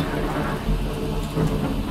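Continuous rain noise with a low rumbling undertone, a dense steady wash that swells slightly in places, no speech.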